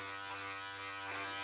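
BILTRTE electric groin and body hair trimmer running, a steady close buzzing hum with a strong harmonic drone, continuous for the whole moment and alone.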